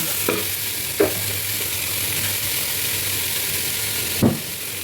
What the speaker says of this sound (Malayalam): മാരിനേറ്റ് ചെയ്ത് വരുന്ന ചിക്കൻ ഇതിലേക്കിട്ട് യോജിപ്പിക്കുക. ഇതെല്ലാം കൂടെ ഒന്ന് ഇളക്കുക.